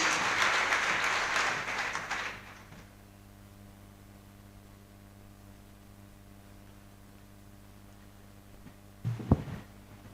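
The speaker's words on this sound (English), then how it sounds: "Let us give him a big round of applause as he comes to the stage" A burst of crowd applause at a radio studio handover ceremony in Kanyamazane fills the opening seconds, then fades away into a low steady hum and quiet background noise.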